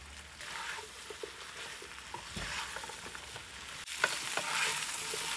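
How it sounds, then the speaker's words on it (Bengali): Beans and eggplant stirred with spices in a pan, for a thin North Bengal hilsa curry with pumpkin vadi, give a steady sizzle and frying hiss with soft scraping strokes that swell louder toward the end. "এইভাবে নেড়ে চেড়ে একটু সমস্ত মশলা সবগুলোর গায়ে একটু মাখাই নিচ্ছি"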